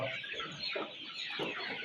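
Desi chickens and a rooster cluck softly on a farm in winter, giving a brief, faint, continuous murmur of bird calls.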